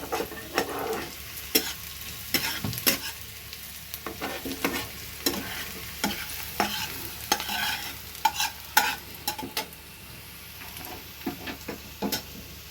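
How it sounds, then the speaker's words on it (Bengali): Sliced onions sizzle and fry in a pan for a fish bharta, with a spoon scraping and stirring in steady, close strokes over a constant crackle. "এবার পেঁয়াজ ভাজাটাও আমার রেডি হয়ে গেছে"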